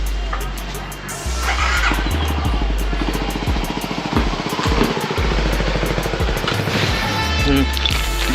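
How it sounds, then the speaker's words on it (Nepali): A CFMoto 250NK Limited Edition motorcycle rides in for servicing, its engine running steadily and loud and close for most of the stretch, with revving and a rough, throbbing low rumble. "सो अब मेरो बाइकभित्र आउँदैछ।"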